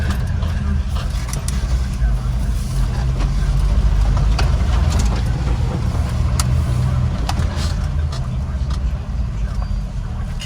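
A Mahindra Roxor turbo diesel drives on a busy freeway, its low engine rumble and road noise steady and close throughout, with occasional rattles and clicks.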